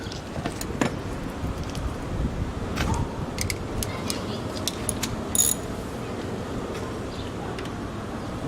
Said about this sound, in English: I have the bolt extractor on my 3/8 extension, and let's see what happens.